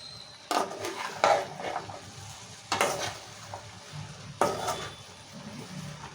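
Okra curry with oil, tomato, onion, salt and chilli stirred gently in a pan, giving a low sizzle beneath a few distinct scraping, clinking strokes of the spoon spaced a second or two apart.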